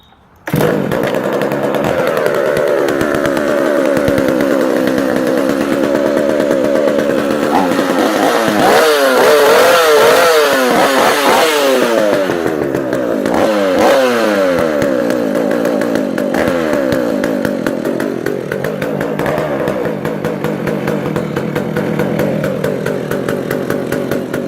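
A vintage Partner R440 100cc chainsaw running on its first run after restoration, a loud continuous two-stroke roar held at steady revs with rising and falling throttle bursts, close and alone throughout.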